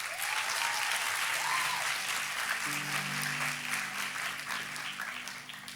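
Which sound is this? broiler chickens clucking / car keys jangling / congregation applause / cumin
congregation applause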